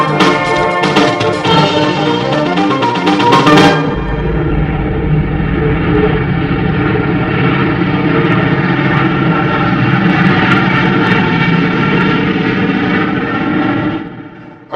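B-52 bombers taking off during the Global Thunder 2018 exercise, a loud, sustained jet engine roar that fills the whole clip with heavy broadband rumble, swelling early on and then holding steady before fading slightly at the end.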